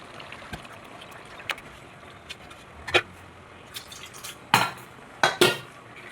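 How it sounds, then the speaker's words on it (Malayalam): Pieces of chicken dropped and stirred into boiling Kerala-style curry gravy in a pot, a faint bubbling bed broken by scattered clinks and a few louder splashy plops near the end, no talking. "അപ്പോൾ ഇതിലോട്ട് ഇനി ഈ ചിക്കൻ ഇട്ട് കൊടുക്കണം."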